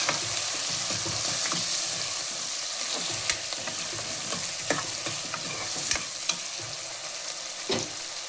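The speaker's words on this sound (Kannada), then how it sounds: "ಈರುಳ್ಳಿ ಫ್ರೈ ಆದಮೇಲೆ ನಂತರ ಬ್ರೌನಿಷ್ ಕಲರ್ ಆದಮೇಲೆ ನೆಕ್ಸ್ಟ್ ಟೊಮ್ಯಾಟೊ ಆ್ಯಡ್ ಮಾಡಿ ಅದಕ್ಕೆ ಫ್ರೈ ಮಾಡಿ" Onion and tomato frying in a pan give a steady, close sizzle with scattered stirring scrapes and clicks throughout, with no voices.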